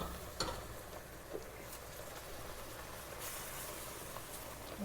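Hot milk is stirred into a béchamel sauce in a pan, added a little at a time: a steady, fairly quiet bubbling and scraping texture with a few soft clicks of the utensil, continuous throughout with no talking.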